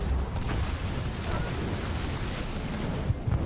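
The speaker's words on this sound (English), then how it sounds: "Vortex coming down, going to be catching 2 of the Grizzlies" The Vortex leader power in the real-time strategy game Halo Wars 2 striking down on Grizzly tanks, a sustained roaring, churning blast with heavy low rumble and crackling debris throughout, ending in a couple of sharper pops.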